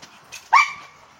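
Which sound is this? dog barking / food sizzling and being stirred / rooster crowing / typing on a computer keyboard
dog barking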